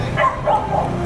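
An aggressive dog barks and yips at close range, three short sharp calls in quick succession, loud and clear.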